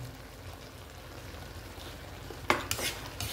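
Adobo of chicken feet and intestines is stirred in a pan, a low simmering sizzle under a few sharp utensil scrapes and clinks toward the end, close and alone.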